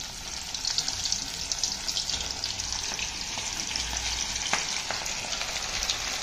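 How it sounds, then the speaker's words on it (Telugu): Battered chicken popcorn fries in hot oil, a steady, close crackling sizzle with scattered sharper pops running the whole time, no voices. "ఇప్పుడు డైరెక్ట్గా బాగా హీట్ అయిన ఆయిల్లో వేయాలండి"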